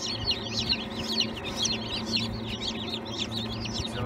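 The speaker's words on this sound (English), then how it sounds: "It's all chicks back there." Newly hatched chicks in an egg incubator tray, a steady chorus of high, shrill peeping from many birds close by over a low mechanical hum.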